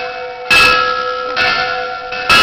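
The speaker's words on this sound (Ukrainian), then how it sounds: "Зараз лунають дзвони" Church bells ring out at a Ukrainian Orthodox church during a patriarch's visit, with sustained bright metallic tones and fresh loud strikes layered over the lingering hum, close and continuous.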